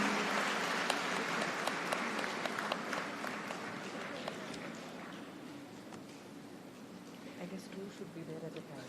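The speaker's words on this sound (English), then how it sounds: "Let the applause continue, please." Sustained applause from a large crowd at a university convocation, steady clapping that gradually thins slightly, with a few sharper claps standing out.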